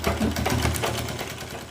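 A sewing machine stitches cloth while making a homemade hand fan, producing a close, continuous rapid mechanical chatter throughout the short stretch, with no voices.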